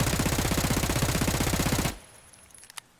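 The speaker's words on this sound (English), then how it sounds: "that's definitely where you're going to see this MP7 and that horizontal recoil kick in a little bit more" Rapid automatic fire from an MP7 submachine gun in Escape From Tarkov, a steady sustained burst of close, loud shots lasting about two seconds before cutting off, followed by faint clinks and one small sharp tick.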